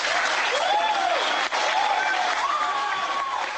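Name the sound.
audience applause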